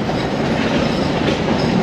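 A passenger train rolls along the rails between Phnom Penh and Battambang in Cambodia, heard from on board as a steady, loud rumble with rattling wheel noise and no voices.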